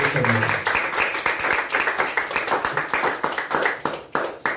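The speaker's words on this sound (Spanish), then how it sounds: "Denle un fuerte aplauso al Rey de Reyes y Señor de Señores." A Spanish-speaking church congregation claps in a strong, rhythmic burst of close, sharp hand claps that continues steadily throughout, with a voice heard briefly at the start.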